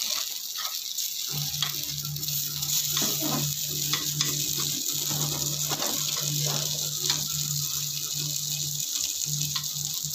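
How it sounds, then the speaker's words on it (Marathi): Spinach and semolina appe fry in an appe pan that is turned now and then, with a continuous close sizzle broken by faint scrapes and knocks. "अप्पे भाजताना आपल्याला हे आपले पात्र थोडं थोडं असं फिरवत भाजून घ्यायचे"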